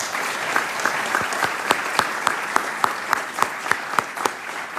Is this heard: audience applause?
yes